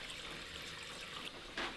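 Water flowing through the plumbing of an Ilford 2240RC film printer with its solenoid bypassed, a quiet, steady trickle with a short louder gush near the end.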